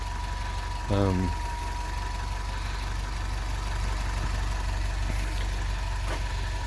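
A car engine idling with a steady low rumble throughout, a brief rising tonal sound near the start, and faint voices in the background.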